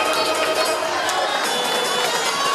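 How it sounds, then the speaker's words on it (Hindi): Dense, steady clapping and cheering from an audience at a school annual day medal ceremony, a continuous wash of hands and children's shouts throughout. "जोरदार तालियां हो जाए प्लीज।"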